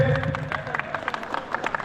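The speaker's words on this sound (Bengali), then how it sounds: "আরো হাততালি জোরে" Applause from a crowd at the opening ceremony of a village cricket tournament, a dense patter of clapping with rising bursts, fairly loud and steady throughout with a few voices mixed in.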